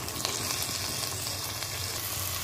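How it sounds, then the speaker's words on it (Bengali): Radish ghonto being mixed with fried potatoes in a pan sizzles steadily, a dense, even crackle of frying with faint stirring throughout and no voices. "এবার ভালো করে একসাথে আলুর সাথে এটাকে মিক্স করে নেব।"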